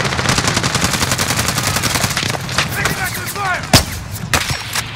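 Sustained automatic gunfire in a Call of Duty Warzone payload match on PC, dense rapid bursts of shots with a sharp louder crack near the middle, radio-style voices chattering faintly underneath.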